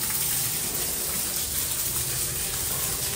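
Shower water running in a beach resort shower area, a steady hissing spray heard throughout at moderate level with no talk.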